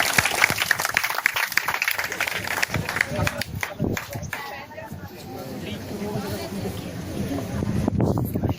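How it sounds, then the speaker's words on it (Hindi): An audience at a school Independence Day celebration applauds in scattered bursts, strongest at the start, while a voice speaks over the clapping and crowd noise for much of the time. "यार तालियां जोर से बजाओ और जोर से।"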